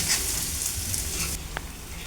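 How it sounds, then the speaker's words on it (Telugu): Ginger garlic paste frying in a pan for chicken curry, a steady close hiss and sizzle with faint clinks of stirring, with no talking. "ఇది కూడా బాగా వేయాలండి, పచ్చివాసన పోయేంత వరకు వేయించుకోవాలి"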